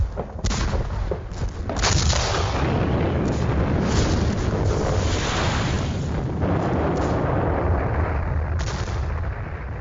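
Heavy Soviet artillery bombardment on the Eastern Front in 1944, with hundreds of guns firing along a long German-held line, booming as dense, continuous rolling blasts and gunfire, loud and close throughout with no talk.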